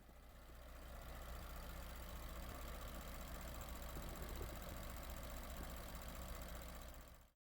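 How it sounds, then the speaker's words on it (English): A steady engine idle hums low and even, with a faint mechanical rattle from the high-pressure pump running through it for several seconds before it cuts off abruptly. "the high-pressure pump is responsible for the rattling noise that you hear when idling"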